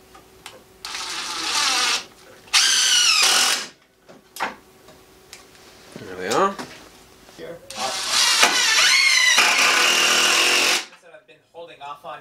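A power driver buzzes start drive screws into a CNC table in several loud, whirring bursts, separated by pauses and softer handling noises.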